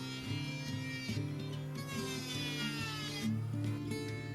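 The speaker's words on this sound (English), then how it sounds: "Then I'll take my electric planer and bevel an edge on" Electric planer beveling the edge of a 1x6 wooden board in a remote off-grid cabin, a steady whining motor hum with shifting cutting tones throughout, close and alone.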